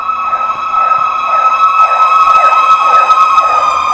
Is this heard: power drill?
no